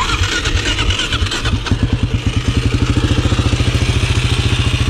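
A motorcycle engine starts up with a brief clattering crank and then settles into a steady, close, loud idle with a fast even pulse, being ridden in preparation for practicing wheelies.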